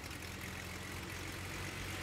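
Airliner jet engine in the flight sim Tower! Simulator 3 at Raleigh-Durham International Airport, a steady broad roar with low rumble, held at an even level throughout with no talk.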